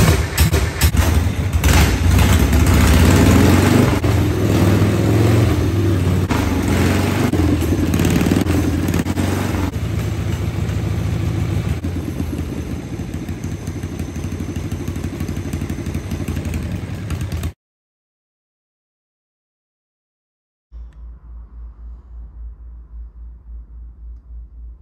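A 1972 Harley-Davidson Shovelhead chopper engine running loud and close, a rough, throbbing V-twin rumble with clattering mechanical noise that eases slightly, cuts to silence for a few seconds, then resumes more quietly.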